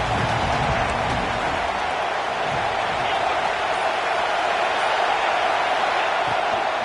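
Stadium crowd at a Nebraska football game on a big third down, a loud, continuous roar of cheering fans that holds steady throughout.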